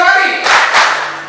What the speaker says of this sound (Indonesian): PGRI tepuk tangan 2 kali